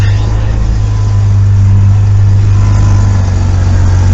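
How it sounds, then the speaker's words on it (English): A 2000 Jeep Grand Cherokee Laredo with the 4.0 engine idles steadily up close, its loud low drone carrying the ticking puff of an exhaust leak near the O2 sensor or clamp. "We got an exhaust leak right there."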